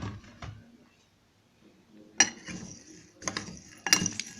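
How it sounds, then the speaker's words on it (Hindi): Spoon or spatula stirring masala into crispy fried chana dal in a metal pan, producing scattered clinks and scraping bursts of varying loudness close by, with no talking. "अब हम इसको मसाले को अच्छी तरह दाल के साथ मिक्स करते हैं।"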